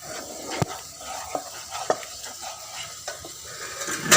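A spoon stirs tomato pizza sauce seasoned with chilli powder, salt and oregano in a pan, with quiet scraping and a few sharp clinks of utensil on metal over a low sizzle, without speech.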